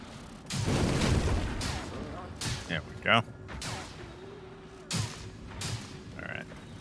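Enemy gunfire in Remnant 2, a heavy burst of shots up front followed by scattered separate blasts and whooshes, with a voice talking between them.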